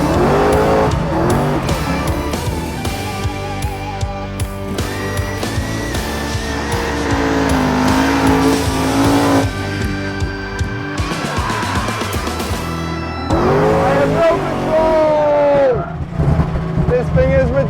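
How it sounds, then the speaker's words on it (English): Ford Mustang driven hard on a race track, engine roaring loud and close with revs rising and falling through gear changes and bursts of tire squeal, with people talking over it. "first run on the track in the Mustang"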